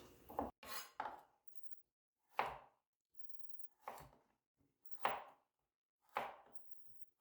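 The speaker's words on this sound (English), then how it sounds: "You can cut carrots like slice like this." A kitchen knife slices carrots into matchsticks in about six sharp, separate chops on a board, evenly spaced and close, with silence between the strokes.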